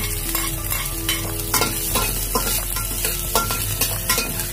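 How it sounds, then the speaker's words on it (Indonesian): Shallots and garlic sautéing in a pan with ginger and shallot stems, a dense close sizzle with repeated scraping stir strokes in an uneven rhythm, no voices. "Tumis sampai harum"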